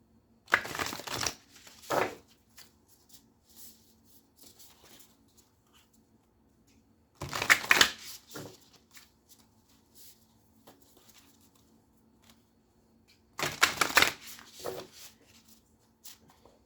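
Three separate bursts of tarot cards being shuffled up close, each a quick riffling flutter, separated by several seconds of near silence.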